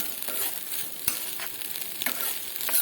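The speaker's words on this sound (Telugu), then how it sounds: "1 or 2 మినిట్స్ స్టవ్ని లో ఫ్లేమ్లో పెట్టేసి ఇలా వేపుకుంటే సరిపోతుంది" Sweet corn frying on low flame in a pan for masala corn chaat, a soft continuous sizzle punctuated by a few sharp spoon clicks and stirring scrapes, close and unaccompanied by speech.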